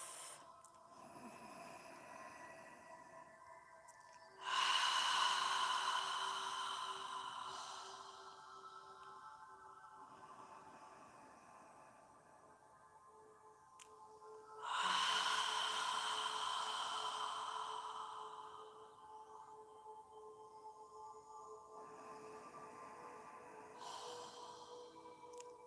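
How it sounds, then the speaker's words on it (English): Slow, breathy exhales in yoga practice, each like fogging a mirror, come as two long soft hissing breaths a few seconds apart, close and quiet, then fade into near silence between them. "exhale as if you're fogging a mirror with your breath"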